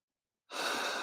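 A single slow, relaxed breath during a guided meditation, soft and close, rising suddenly after half a second of silence and holding as a steady airy rush.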